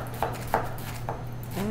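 A kitchen knife makes straight cuts through an onion: four crisp, separate chops spaced irregularly over a couple of seconds, close and clear.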